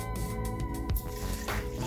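Two cups of water are poured into a cooking pot with onions, giving a close, splashy liquid pour with small drips and a brief sharper splash partway through, no voice over it.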